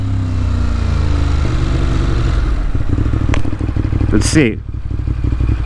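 A 2018 Ducati Monster 821 idles with a steady low engine rumble through the streets of New York City, and a brief clatter and a high squeal cut in near the end while someone says a few words over it.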